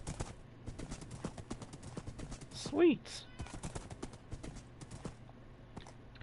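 Steady clip-clop of horse hooves trotting in the Minecraft Bedrock video game on PS4, a continuous rhythmic patter with a brief whinny midway and a short spoken word over it.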